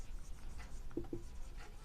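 Chalk or marker scratches on a board during a physics lecture, two short strokes in quick succession, faint and close in a quiet room.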